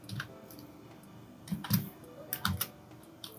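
Keystrokes on a computer keyboard come in short irregular clusters, a few quick taps then pauses, close and moderately loud with no talking.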